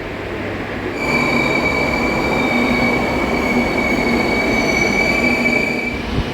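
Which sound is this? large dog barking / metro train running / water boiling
metro train running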